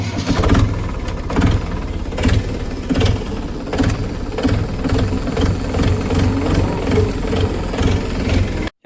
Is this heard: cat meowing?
no